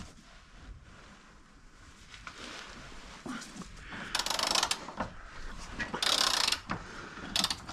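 A size 15 ratchet wrench works on a Discovery 3 being stripped for sill welding, giving bursts of rapid pawl clicks while tightening and undoing, close and fairly faint, with no talk.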